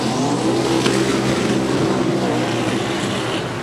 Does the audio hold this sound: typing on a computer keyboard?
no